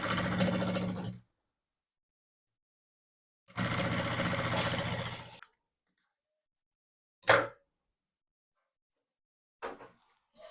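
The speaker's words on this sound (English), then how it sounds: "fold your fabric like this and sew it round" A sewing machine stitches fabric for the lining of a zipped beaded bag, running in two longer bursts split by silence, then a couple of brief short runs.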